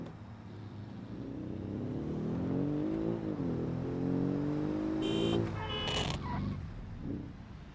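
A small sports car in a video game, set on the Bogstead map, slides with its engine revving. A steady, moderately loud engine drone rises and falls in pitch, with a few brief sharp clicks near the end.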